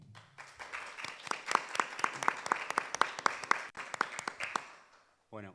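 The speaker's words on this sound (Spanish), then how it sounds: "Pido entonces un fuerte aplauso para Germán" Applause from a small audience at an art and design panel event, brisk close clapping building over a few seconds and tapering off before a voice starts speaking.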